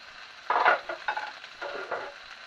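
Sliced red pepper hits a pan of softened onions and sizzles, with stirring scrapes and frying crackle over a few seconds, close and fairly loud with no talking.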